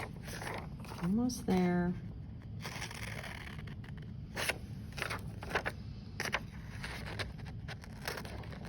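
Scissors snip through paper while a paper net for a rectangular prism is cut out, leaving a run of short, crisp cuts and rustles beneath a person talking close by.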